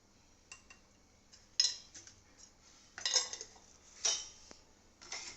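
Masala cashews are tossed with salt and red chili powder in a bowl, making quiet scattered clinks and scrapes of a spoon against the dish, a few sharper taps between softer rustles, with no talking.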